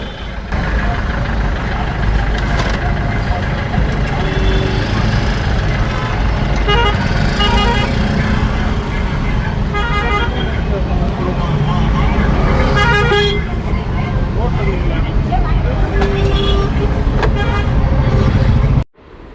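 Heavy road traffic on a hill route toward Kodaikanal, with a dense, steady rumble of engines and repeated car horn toots scattered throughout, while a voice talks over the noise.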